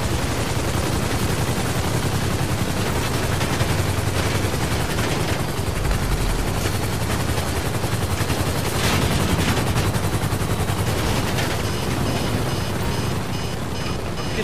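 Aircraft gunfire in the video game GTA Online during an air fight, loud continuous rapid bursts over a droning propeller engine, with no break across the whole stretch.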